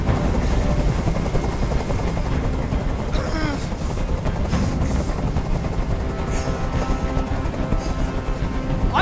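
A helicopter hovers in the Detroit: Become Human video game, with steady rotor thumping throughout, loud and close beneath tense shouted dialogue and scattered game effects.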